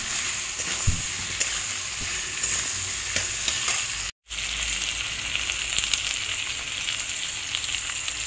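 Chopped ridge gourd is stir-fried with spices in a pan, giving a steady, close, hissing sizzle with scraping stirs throughout and a sudden brief dropout in the middle.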